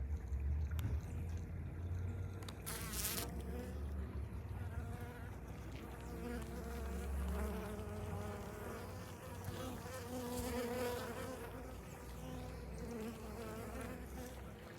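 A steady, dense hum of many honeybees buzzing close up at a hive, droning continuously without a break.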